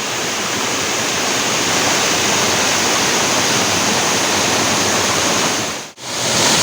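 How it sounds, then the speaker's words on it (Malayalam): A seasonal monsoon waterfall at Choriyankunnu roars in a steady, loud, broadband rush of falling water with no voices, cutting off briefly near the end before resuming. "മഴക്കാലത്തെ സീസണിൽ മാത്രമായിട്ട് ഉണ്ടാവണ വെള്ളച്ചാട്ടം."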